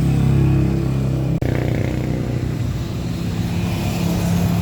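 A Rusi Royal motorcycle engine runs steadily close by, a continuous loud idle with a brief dropout near the start, with no talking over it.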